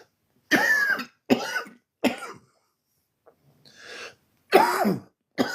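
Several hoarse coughs close to the mic, in uneven bursts with short pauses and a breath between them.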